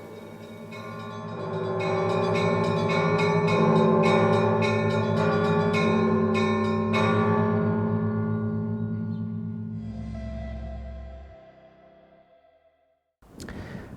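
Easter church bells ring in a dense, overlapping peal that builds, holds, then fades out, followed by a brief new sound at the end, with no voices.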